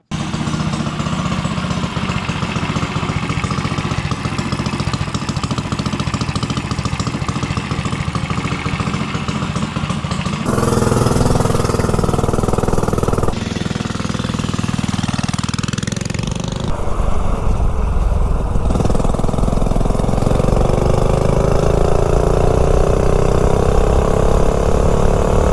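A micro minibike engine runs on clear gas with a loud steady buzzing drone close by, its pitch and tone shifting a few times as the revs change.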